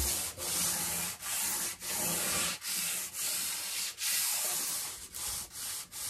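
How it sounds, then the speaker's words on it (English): Hand sanding of an oak finish on a nightstand using 220-grit wet/dry paper with paint thinner, a steady close scratchy rubbing in repeated back-and-forth strokes with brief pauses between passes. "Just going to lightly sand again."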